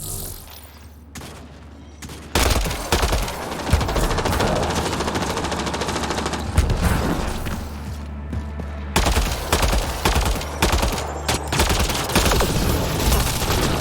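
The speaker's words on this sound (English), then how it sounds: "Damn it, he's shooting through the box." Rapid automatic gunfire erupts in a Mass Effect Andromeda firefight, bursts of machine-gun fire and sharp shots crowding together almost continuously after a quieter opening, loud and close, with a brief lull partway through.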